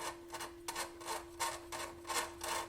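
A small drill bit, the cleaning bit from a desoldering tool, turned by hand to widen a hole during repair of an Onkyo TX 4500 stereo receiver, giving a steady series of dry rasping scrapes in an even back-and-forth rhythm, close and alone.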